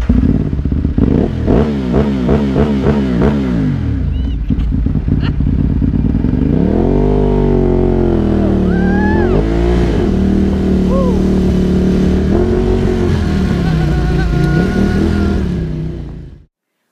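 A Ducati motorcycle revs and accelerates loudly and close by, its engine pitch climbing and sweeping in repeated surges, with a continuous roar that cuts off abruptly at the end.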